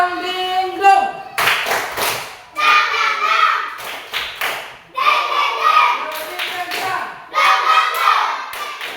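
A group of schoolchildren claps a rhythmic classroom cheer in quick bursts, broken by short pauses and chanting voices between the clapping patterns.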